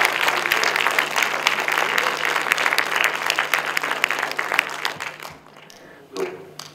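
An audience at the 2016 avant-premiere of the French film "A fond" gives dense, sustained applause that fades out over the last couple of seconds.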